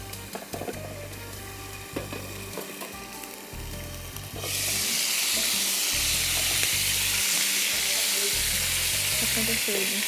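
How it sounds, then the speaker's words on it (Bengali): Chicken pieces fry in oil in a karahi, a dense steady sizzle that jumps sharply louder midway as more meat hits the hot pan, with faint stirring clatter underneath. "এখন আমরা চিকেনটা ভেজে নেব।"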